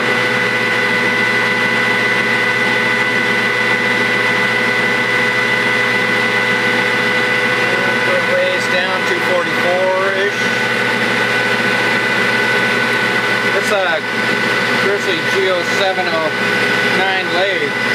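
A metal lathe runs steadily while cutting metal, a constant mechanical drone with machine hum throughout, with brief squealing tool chatter in the middle and near the end; close and loud the whole time.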